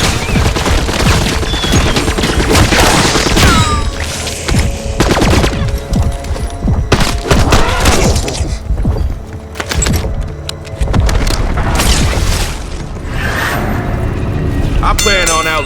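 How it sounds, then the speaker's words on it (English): Semtex sticky grenades in a zombie bowling game explode amid heavy gunfire and repeated booms, a dense, loud barrage of blasts and shots running throughout while a voice talks over the action. "Throwing Semtex."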